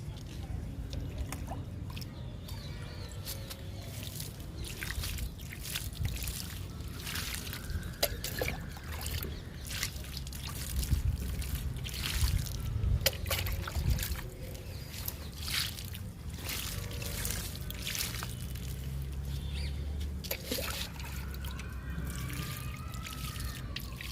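Water splashes and trickles as newly planted eggplant seedlings in soil-filled fruit baskets and water cans are watered, with repeated pouring sounds and drips, soft and close, and a voice speaking intermittently.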